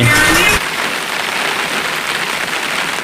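Steady rain patters on surfaces in a dense, even hiss, after a brief moment of louder sound at the start.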